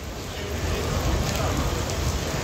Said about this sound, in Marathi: पाऊस पडतोय यार